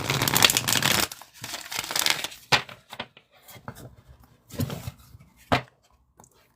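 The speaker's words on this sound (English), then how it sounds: "I'm going to give it one more shuffle" A deck of reading cards is shuffled by hand in bursts of crisp, papery riffling and slapping, with a few sharp taps between the louder passages.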